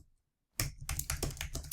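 Typing on a computer keyboard: after a brief silence, a close, busy run of rapid key clicks with an uneven rhythm, loud and unaccompanied by speech.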